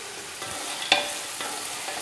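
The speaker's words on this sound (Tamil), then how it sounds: "பச்சை வாசனை போகிற அளவுக்கு வதக்கிடுங்க." Chopped carrots, beans and green peas being sautéed and stirred in a pan, a faint steady sizzle with a couple of soft clinks of the spoon against the pan.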